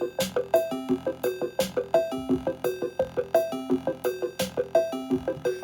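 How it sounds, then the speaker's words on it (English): Drum loop from Loop Matrix with simple kick, hi-hat, snare and crash hits repeating in a steady, even rhythm, with pitched melodic notes layered over it, no voices. "this third tab is just drums, just simple kick, hat, snare, and crash"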